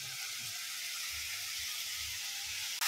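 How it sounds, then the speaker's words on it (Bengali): Fenugreek seeds frying in a pan with ginger-garlic paste, turmeric and chili powder, giving a steady, close, loud sizzle and hiss that runs without a break, low stirring bumps beneath it. "তো মেথিটা দিয়ে একটু ভালো মতো কষিয়ে নিই"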